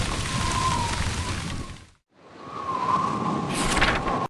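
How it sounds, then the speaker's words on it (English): Roaring wind and rain from a tornado in the Oz interactive storybook PC game, a loud rushing whoosh that fades into a brief silence, then swells back with a bright burst near the end. "A tornado is a huge storm with strong wind and rain."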